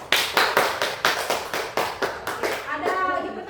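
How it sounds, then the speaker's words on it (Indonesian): Clapping in a classroom for a student group during a teacher's performance assessment: a short run of hand claps with a steady, sharp rhythm, close and clear, fading into scattered claps at the end. "Tepuk tangan dulu."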